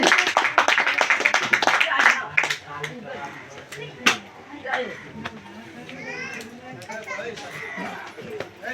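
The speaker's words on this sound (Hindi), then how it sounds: "जोरदार ताली, जोरदार ताली, जोरदार ताली।" Clapping at a crowded political party gathering at a district president's residential office, bursts of hand claps mixed with children playing and chatter, with people talking throughout.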